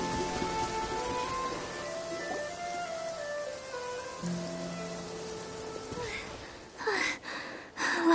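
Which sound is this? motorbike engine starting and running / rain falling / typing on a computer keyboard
rain falling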